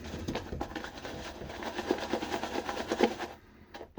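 A shaving brush works Wilkinson Sword hard soap into lather with fast, continuous wet swirling and scrubbing, fairly faint and close, alone for about three seconds before it trails off.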